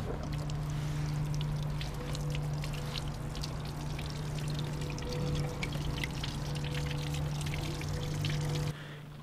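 Water drains steadily from the hot water tank of a converted camper van, a continuous pouring trickle with a faint tonal hum underneath that stops abruptly near the end.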